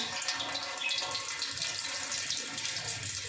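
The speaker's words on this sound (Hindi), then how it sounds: "तो हम पहले सूजी का पानी निकालेंगे" Water drains off soaked semolina in a kitchen while halwa is being made, a steady splashing, running flow like a faucet, continuous and close with no talk.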